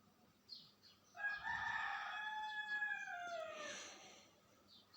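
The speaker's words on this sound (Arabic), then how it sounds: "سامعين صوت الديك؟" A rooster crows once, a long drawn-out call that rises and trails off, heard from a little distance against quiet background noise.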